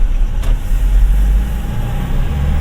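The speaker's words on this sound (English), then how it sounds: "And there's a good pull on the high rev range. You can hear the turbo spool up." Toyota Tamaraw 2.4 diesel under acceleration on a test drive: a loud, close engine drone and road rumble carry on steadily, with a faint rising whine from the turbo spooling.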